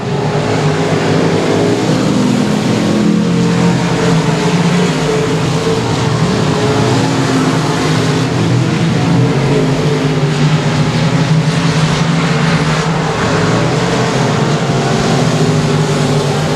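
Race cars roar continuously around the quarter-mile oval at Sabine Speedway, a loud, sustained engine drone that rises and falls slightly as they lap, with no clear voices heard.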